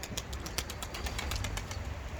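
Homing pigeons of the Seferli breed are released in Mardin, with steady wingbeats flapping over a low, continuous rumble and faint bird calls.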